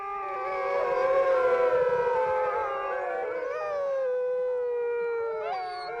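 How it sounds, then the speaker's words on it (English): Inuit dogs howl, one long and wavering, joined by other howls in overlapping tones, drawn out and mournful, with no other sounds. "The wolf-like howl of the wild once echoed loudly across the barrens."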